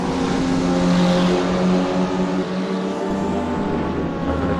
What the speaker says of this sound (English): Battle of the KTM's about to take place right in front of us.